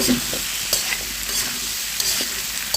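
Potatoes frying with onion, green chilli and garlic powder for a fish-head potato curry: a loud, dense sizzle with frequent ladle scrapes and taps against the pan, close and continuous.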